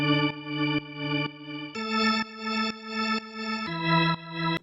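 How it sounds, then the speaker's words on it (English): A soloed organ plays sustained chords that pump rhythmically up and down in level from a fakie effect, each chord swelling and dipping in a steady pulse, with no voices. "I'm going to add just a funny effect called a fakie,"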